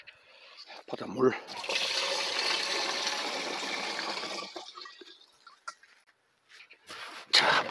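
Seawater pours in a steady, loud gush for about three seconds, then tapers off; brief speech comes before and after.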